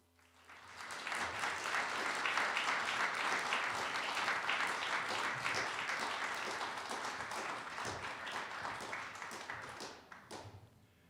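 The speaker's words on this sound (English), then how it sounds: "There was massive applause in the room here" An audience in a lecture room at a keynote launch event bursts into sustained applause, dense clapping that swells quickly, holds steady for about nine seconds, then tapers off.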